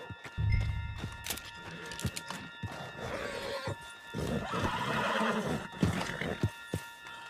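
A horse whinnies loudly and snorts amid clopping hooves and rustling movement in the video game Red Dead Redemption 2, with no talking.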